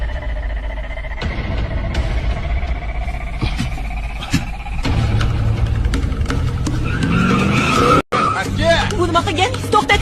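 A car speeds along and skids with tire squeal and engine roar, loud and close, while people talk over the commotion and a sharp cut breaks the sound near the end.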